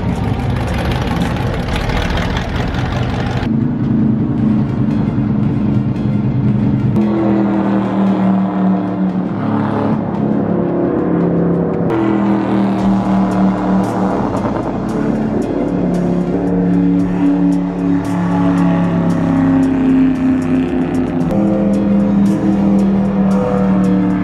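A 1964 Ford Galaxie race car's engine drones loud and steady from inside the car, shifting pitch as it revs through laps, with no talk over it.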